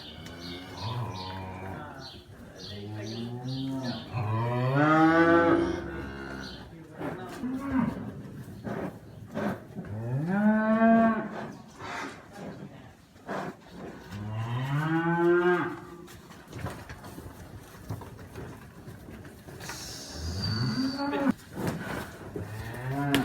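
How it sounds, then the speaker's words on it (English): Heifers mooing on a farm, several loud, drawn-out calls close by with short pauses between them, one after another, with no talk over them. "So yeah, we'll go and move these heifers for William."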